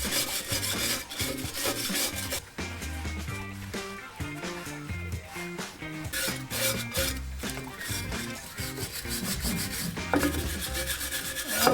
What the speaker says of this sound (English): I'm wire brushing this dirt out